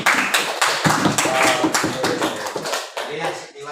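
A classroom of students applauding, a loose burst of rhythmic clapping with uneven beats that runs for a few seconds, with voices mixed in under the claps.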